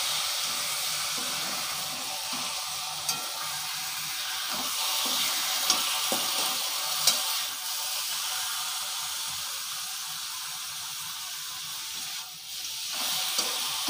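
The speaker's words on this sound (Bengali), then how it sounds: "ম্যারিনেশন করা যে মটনটা সেটা আমি ঢেলে দিচ্ছি" Marinated mutton sizzles as it fries with garlic and spices in a clay pot, a steady, faint, bright hiss that continues evenly with a few small pops and no talking.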